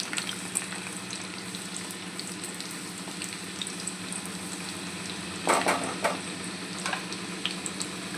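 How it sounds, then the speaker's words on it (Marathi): Garlic frying in hot oil, a steady close sizzle with crackling, a brief louder burst of spattering midway, no voices. "आपलं तेल गरम झाले. आता आपण लसूण घालू."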